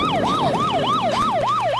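A police siren sounds loud and near, wailing up and down in a fast, regular cycle about five times over less than two seconds, alone without any talk.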